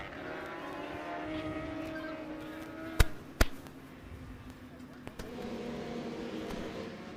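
Stock 1000 racing motorcycles cruise back in after a fast warm-up lap at VIR, engines droning at moderate distance with a couple of sharp clicks midway, the sound thinning then picking up again.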